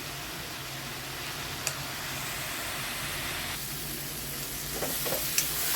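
Shredded cabbage with salt and turmeric frying in a pan, a steady soft sizzle that carries evenly throughout, with a few faint clicks of a utensil near the end.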